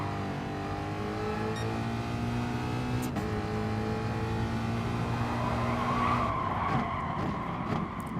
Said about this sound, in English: this corner I brake too late, slide through it onto the dirt